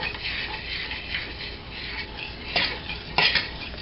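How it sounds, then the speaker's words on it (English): A utensil stirs thickening flour-and-water paper mache paste in a pot on the heat, giving continuous soft scraping and sloshing with a few sharper knocks against the pot near the end. "So I'm pouring it in, and I'm stirring. And you keep stirring"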